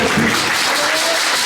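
A congregation bursts into sustained applause for the Holy Spirit during a French-language church service led by a prophet, a dense, steady clapping that fills the room without letup.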